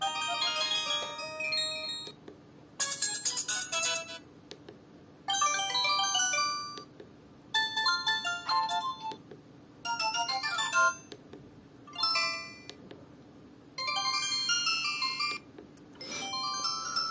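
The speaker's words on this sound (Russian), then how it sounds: "Давайте звуки сообщений посмотрим." A series of different short electronic message alert melodies from a 2006 Samsung F300 mobile phone play one after another, each separated by a brief pause, clear and close.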